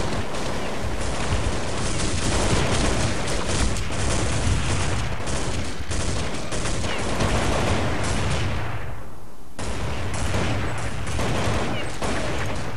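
Video game gunfire, dense bursts of automatic shots and booming fire rattling almost nonstop, with a brief lull before the shooting resumes at full loudness.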